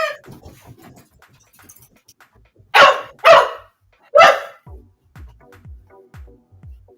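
Three loud, close dog barks from the video game Elder Scrolls Online, spaced about half a second and a second apart, set against quiet background sounds and soft low thumps.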